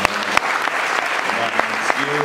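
Churchgoers at a French-language Sunday service applaud loudly and continuously, with scattered cheers and voices rising over the dense clapping.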